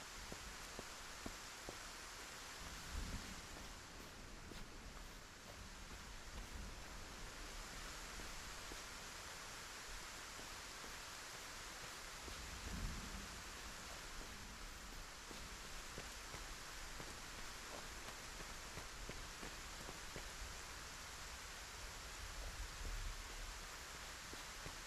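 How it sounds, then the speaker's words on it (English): Heavy rain pours steadily in the video game Lay of the Land, a constant hiss of dense falling drops with a few soft low thumps, no voices. "And it's still really heavily raining."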